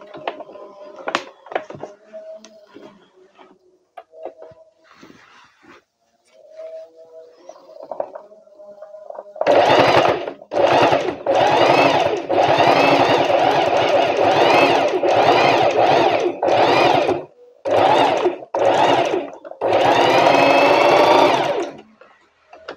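A sewing machine stitches curtain fabric in repeated loud bursts of rapid motor buzz separated by short pauses, following quieter handling noises and faint clicks.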